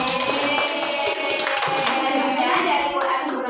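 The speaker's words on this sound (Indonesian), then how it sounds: "Beri tepuk tangan kepada" A classroom of students claps hands together, a dense and fairly loud patter of claps with faint voices mixed underneath.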